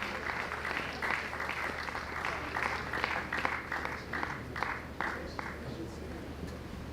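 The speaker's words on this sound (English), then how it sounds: "Keep clapping for her, please keep clapping." Steady applause from a university conference audience fills the room, a dense patter of many hands clapping continuously with a few louder claps standing out.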